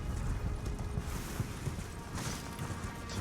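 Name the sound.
horse galloping in video game Elden Ring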